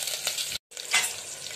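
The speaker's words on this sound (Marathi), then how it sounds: "चला आपल्या वरणाची फोडणी छान झाली आहे," Dal tempering of garlic cloves and chopped green chillies sizzles steadily in a hot pan, broken by a brief silent gap mid-way, then a brighter burst of frying before it settles back.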